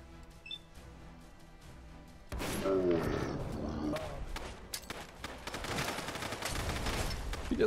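Gunfire from the video game Fallout London, sharp bursts of shots and impacts breaking out after a quiet opening, with a busy, clattering stretch that continues to the end.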